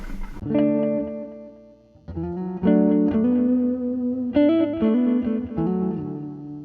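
An electric guitar plays sustained notes and chords through a Boss DD-8 delay pedal in tape mode. Lo-fi, slightly broken-up repeats trail into each other, giving a reverb-like wash, with no talking.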